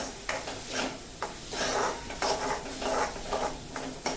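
Onions sauté in a pan for dal fry, a steady sizzle broken by repeated scraping strokes of a spatula stirring against the metal at a close, moderate level.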